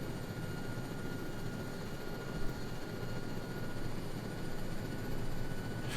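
Huey helicopter gunship flying in the video game Arma 3 with a Vietnam-era mod, a steady, continuous rotor and engine drone that stays loud and even throughout with no talking.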